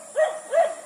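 Dog barking near an elephant bathing area: two quick, clear barks in succession, moderately close, with no talk over them.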